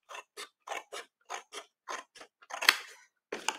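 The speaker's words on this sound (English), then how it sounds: "So I'm going to bring in my big boy scissors today, and I am going to cut up these score lines." Large scissors snip through scored card paper in a crisp run of about a dozen short, evenly spaced cuts, close and clear with no talking.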